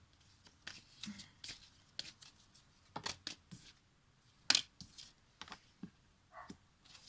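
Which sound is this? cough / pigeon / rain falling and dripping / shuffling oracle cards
shuffling oracle cards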